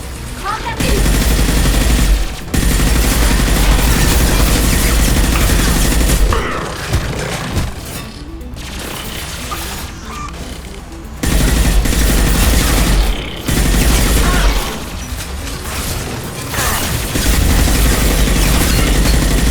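Weapon fire in the Mass Effect video game, loud continuous volleys and booming bursts with short gaps, joined by game dialogue voices.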